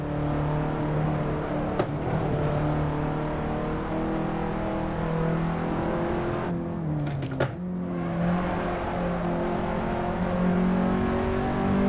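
A race car is driven flat out around the Sebring circuit in a racing video game, its engine holding a steady high drone with shifting pitch and a couple of brief downshift blips, loud and close, with no talking.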